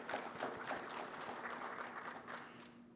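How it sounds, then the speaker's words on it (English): An audience at a plenary session of a conference claps together, a soft, continuous wash of many hands heard from some distance, fairly even and fading slightly near the end. "a huge round of applause to you"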